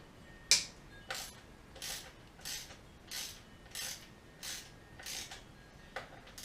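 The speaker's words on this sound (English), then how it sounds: "Now first what I'm doing here is loosening the triple trees clamp pinch bolts" Pinch bolts on the triple tree clamp of an ATC 200x are loosened with a ratchet: a sharp first click, then about nine evenly spaced ratcheting bursts, moderately close and alone.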